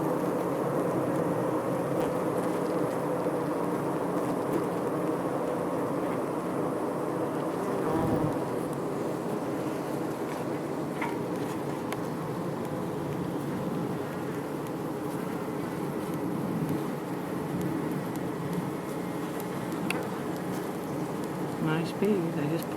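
Honey bees in a feral hive give off a steady, dense buzzing hum, close and continuous throughout, with faint speech in the background.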